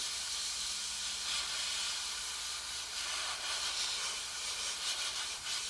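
Heavy paint sprays under high pressure from an airbrush onto a weathered resin HO scale Tigercat skidder model, making a steady, quiet hiss that runs unbroken for several seconds with no talking.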